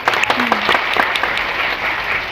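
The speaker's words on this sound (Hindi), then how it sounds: "जबरदस्त तालियां" An audience at a Modicare event applauds with a dense burst of clapping that stays steady and fairly loud, heard close and without talk.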